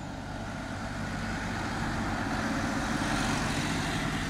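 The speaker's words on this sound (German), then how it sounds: "Jetzt kommt hier gerade ein Traktor." A steady, loud engine rumble of a tractor passing nearby on a rural cycle path near Ochtendung, Germany, building slightly in volume, with no talking.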